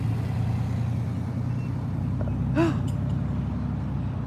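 Outside a detention center, a truck rumbles past with a steady low engine drone and a brief hiss of air brakes, moderately close, with faint voices in the background.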